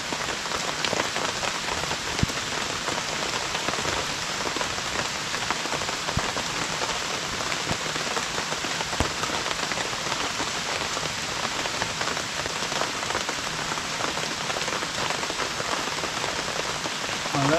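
Steady, heavy rain pours down continuously, a dense hiss of drops on surfaces with occasional louder splatters and no voices.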